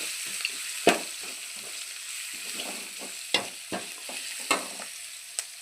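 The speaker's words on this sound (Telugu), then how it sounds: "చిటికెడు పసుపు, ఇలా ఫ్రై చేస్తున్నాను." Ridge gourd curry base frying with a pinch of turmeric, a soft steady sizzle punctuated by several sharp scraping stirs of a spatula against the pan, close and without talk.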